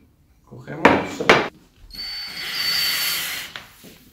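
Two sharp knocks, then a power drill with a 5 mm bit whirs into a wooden slat for about a second and a half, with faint sounds around it.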